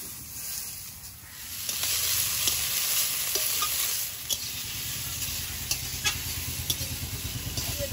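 Leafy greens go into a pan of raw plantain and potato already fried in oil, with a steady close sizzle and scraping stir strokes throughout and a few sharper spits near the end.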